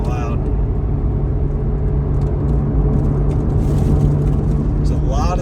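Corvette C8 Z06 sports car climbing a sandy mountain road, its engine a steady, loud droning rumble heard from inside the cabin throughout, with no break and no talk.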